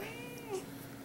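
A cat meows once, softly and close by, a short rising-and-falling call against a quiet room, just home from surgery on her leg at the vet.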